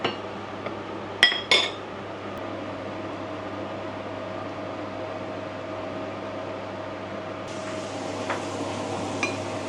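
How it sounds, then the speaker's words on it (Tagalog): Cooked fish being moved onto a large plate in a home kitchen, with two quick clinks of dishes early on and faint scraping afterward over steady background hum, no talking. "So itong fish ilipat ko sa malaking plato."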